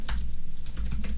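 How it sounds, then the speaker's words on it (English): A few quick keystrokes on a computer keyboard, close and fairly loud over a low steady hum, typing out a website address for a poster design. "and then type in a website"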